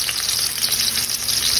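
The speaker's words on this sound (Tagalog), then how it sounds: "Prito natin ang kamatis para masarap." Steady, loud sizzling and crackling of tomatoes frying in hot oil, continuous throughout with no voices.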